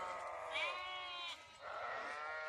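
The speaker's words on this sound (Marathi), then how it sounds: "मेंढ्यांचे आवाज येत आहे." Sheep bleat in long, wavering calls, one after another, moderately close on open farmland beside a fence, with faint rural background and no talk.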